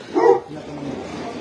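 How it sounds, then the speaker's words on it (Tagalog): Dogs left behind at a compound beside a lake bark in one short loud burst near the start, then fade into quieter background noise. "May mga aso pa."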